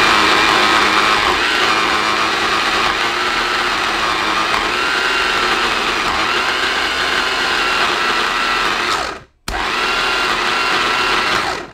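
A blender runs loud and steady, puréeing green olive paste, with a constant whirring drone that stops briefly near the end and then starts up again.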